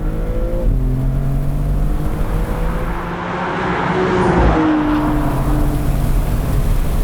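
A Maserati MC20 Cielo accelerating hard, its engine loud and close with a rising drone, a brief dip as it shifts, then building again under strong road and wind noise, with no talk.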